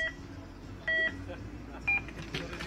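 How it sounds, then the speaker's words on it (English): Start signal beeps at an ice climbing speed race, two short electronic tones about a second apart over faint crowd and venue noise. "Go back for those beeps."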